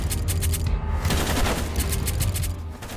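Rapid bursts of gunfire crackle without pause in Kill the Crows, a Western-themed pixel-art top-down shooter, with dense overlapping shots and booms over a low rumbling game soundtrack.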